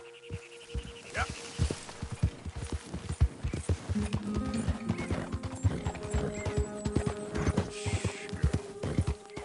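Horse hooves beat in Red Dead Redemption 2 with a steady, close, repeated rhythm. A whinny and a background game soundscape accompany the hoofbeats, and no one speaks.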